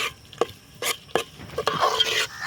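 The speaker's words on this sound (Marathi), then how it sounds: "आई आता वाटण टाकते त्याच्यामध्ये आपण जे मगाशी पाट्यावर जे वाटण बनवले ते छान हलवून घ्यायचं भाजून घ्यायचं" Stone-ground masala paste for Kolhapuri misal being stirred and roasted in a pan over a wood-fired stove: several distinct, close scraping strokes, then a rising sizzle of the paste frying in oil.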